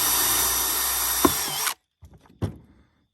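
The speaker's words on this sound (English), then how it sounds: "Just anywhere you want, drill a small hole." Power drill boring a small hole in a plastic bucket lid, a loud steady whine that catches briefly and then stops abruptly, followed by a few light clunks and handling knocks.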